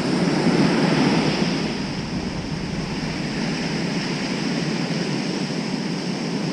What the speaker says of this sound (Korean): 누가 이렇게 파도 칠 줄 알았나?